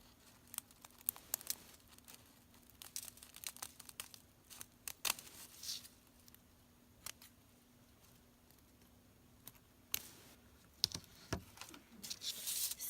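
Scissors snipping the end of a tinsel tassel, a series of soft close crinkly cuts and rustles with no talking.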